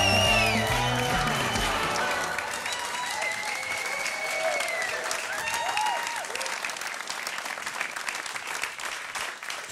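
A studio audience breaks into sustained, loud applause as comedian Daphne de Luxe is welcomed onto a German TV comedy stage, with a short stretch of music at the start before the dense clapping continues steadily.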